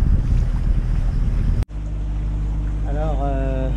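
A sailboat motoring under engine in the Strait of Messina, a steady low engine drone with wind buffeting the microphone, and a short tonal sound near the end.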